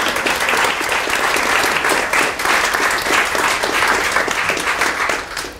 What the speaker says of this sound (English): So I think you can all give them a round of applause for that.